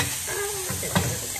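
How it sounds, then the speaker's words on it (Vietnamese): Pork ribs grill over an open flame, giving a steady sizzling hiss with faint crackles and a brief flare of spitting fat, close and fairly loud with no one talking. "Cái giống xì lửa."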